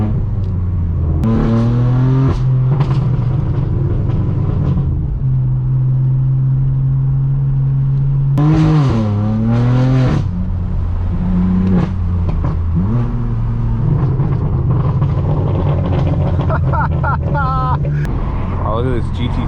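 Straight-piped BMW M4 F82 driven fast through Hollywood streets, its loud exhaust revving up and down through gears with rising and falling engine pitch, crackles between shifts, and a voice talking over the engine.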